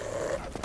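A dog enemy in the video game Dark Souls gives a low, rumbling growl, close and continuous for under a second, with no talk over it.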